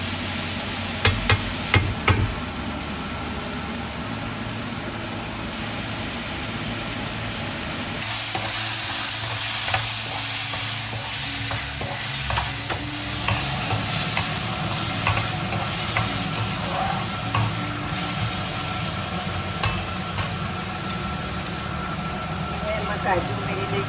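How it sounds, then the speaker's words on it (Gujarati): Onions and potatoes for batata poha fry in a pan and get stirred now and then, a steady sizzle with scraping clatters, some louder stirring knocks early on, and a low hum in the background. "આ ડુંગળી ને બટાટા ગોલ્ડન બ્રાઉન ના થાય ત્યાં સુધીને આપણે ચડવા દેવાના છે. એટલે થોડી થોડી વારે અને વચ્ચે હલાવતા રહીશું."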